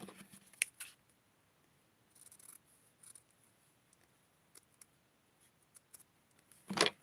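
Scissors snip through fabric while cutting out doll clothes from a pattern, a few quiet, scattered cuts with soft handling noises between them and a louder burst near the end.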